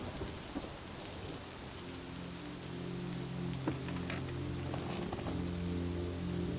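Steady rain falls around a porch at dusk, a continuous hiss with low rumbles of distant thunder rolling underneath and growing slightly louder toward the end.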